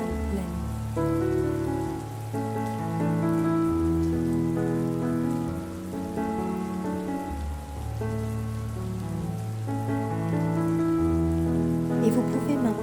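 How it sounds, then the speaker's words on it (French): Steady rain falls in a continuous soft patter beneath sustained, gentle musical tones, with no break from start to finish. "Et la pluie tombe encore."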